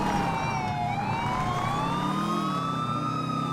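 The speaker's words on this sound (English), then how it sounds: "Even the sirens are the same as they were in 4," Wailing police car sirens in the video game GTA 5 with a Liberty City mod, several overlapping rising and falling tones heard at moderate distance over a steady traffic rumble.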